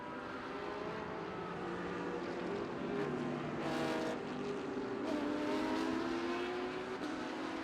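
GT race cars, a VLT Porsche and an Audi, are racing at Chang International Circuit in Thailand. Engines drone and shift steadily at a distance, with rising and falling pitches as they accelerate and pass, and no talk.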